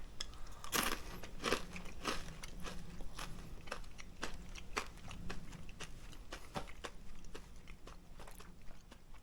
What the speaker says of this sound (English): It just tastes like crunchy fried fish.